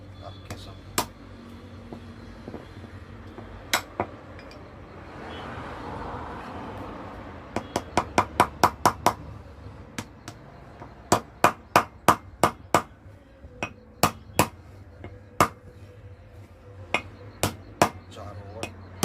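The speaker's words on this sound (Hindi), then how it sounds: "हथौड़ी की मदद से हम इसे बिठा देंगे" A hammer tapping a seal into the rear axle housing of a Mahindra tractor, sharp metallic strikes in quick bursts and clusters, close by, with a voice talking at times between the blows.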